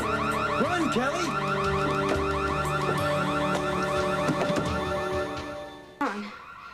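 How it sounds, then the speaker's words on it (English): An alarm going off, a loud warbling electronic siren that repeats steadily for several seconds, then cuts off abruptly, with a brief sound after it stops. "Sounds like the alarm's going off."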